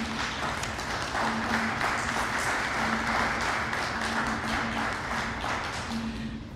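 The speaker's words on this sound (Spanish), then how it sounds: "yo pido un aplauso para su memoria." Steady, dense audience applause at a formal academy investiture ceremony, an even wash of clapping that holds for several seconds and then gradually tapers, with a low steady hum beneath it.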